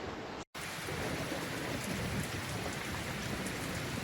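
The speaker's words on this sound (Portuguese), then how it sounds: "Tempo para chuva. O rumor da superfície da água." Steady rain pattering onto a water surface, a dense continuous hiss with soft drops throughout, interrupted by a brief moment of silence near the start, with no voices.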